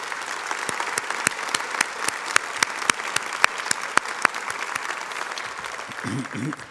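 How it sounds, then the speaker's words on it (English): Audience applause at a military medicine award presentation, a steady crowd clapping with a few sharp, prominent nearby claps standing out, easing off near the end as a voice begins speaking. "Let's give him another round of applause."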